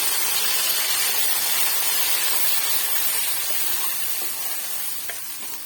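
Ginger, garlic and tomato paste frying in a hot pan for mutton biryani, giving a loud, steady, close sizzle and hiss that fades a little toward the end, with no talk.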